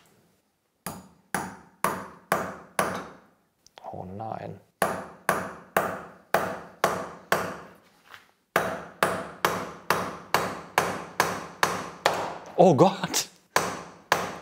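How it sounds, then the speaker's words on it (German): Repeated sharp hammer strikes drive a screw in, a steady, rhythmic series, close and loud, with a short pause and a person briefly exclaiming between the bursts. "Und jetzt hämmern wir noch eine rein."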